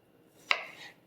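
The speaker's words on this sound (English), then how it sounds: "I'm going to go ahead and chop up my potatoes" A knife chops through potato on a cutting board in one quick, crisp stroke, a single faint close thunk in an otherwise quiet kitchen.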